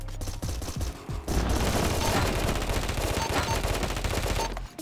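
Rapid SMG fire in a video game, a dense continuous burst of shots lasting several seconds after a few short opening pops, loud and alone without talk.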